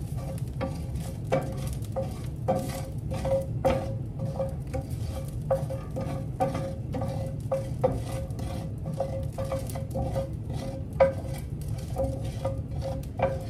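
Food toasting in a very hot pan for a beef tournedos dish, soft sizzle underneath repeated sharp taps and scrapes of a utensil stirring against the pan, fairly close and moderate in level.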